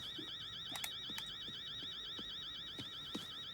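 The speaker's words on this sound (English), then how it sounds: "now the alarm is going off." An electronic alarm wails in The Day Before video game, a warbling siren tone repeating steadily at moderate loudness with faint knocks and footstep-like thuds underneath.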